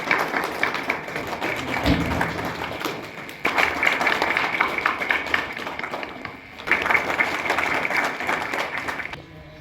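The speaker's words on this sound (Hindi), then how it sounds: "आप दोनों सम्मानीय अतिथियों का हम जोरदार तालियों के साथ स्वागत एवं अभिनंदन करते हैं" An audience at a Central Bank of India branch event in Udaipur claps loudly to welcome two honoured guests, producing dense sustained applause in several surging waves.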